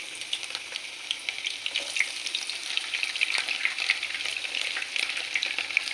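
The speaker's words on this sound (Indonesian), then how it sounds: "Kita oseng-oseng bawang gorengnya ya sampai menguning" Steady crackling sizzle of fried shallots stir-frying in hot oil, with occasional scraping stirs, close and continuous, no voices.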